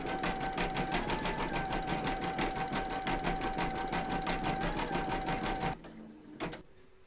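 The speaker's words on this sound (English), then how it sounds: "Pop your hoop into your machine and stitch round number 4, and that's going to zigzag the top and bottom here." A home embroidery machine stitches a zigzag round across the top and bottom of a bee-hive appliqué, its needle hammering in a fast, steady rhythm close by before stopping abruptly near the end, followed by a couple of light clicks.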